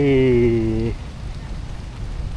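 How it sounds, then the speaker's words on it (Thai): Steady rain falls across a public park, Suan Sirikit, filling the scene with a soft, even hiss and patter after a voice briefly speaks at the start. "แต่ตอนนี้ฝนมันตกนะ ฝนมันตก"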